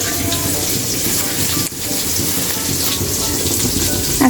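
Taro stolons (loti) fry in a pan with a loud, dense, continuous sizzle close up, and faint stirring noises come through now and then.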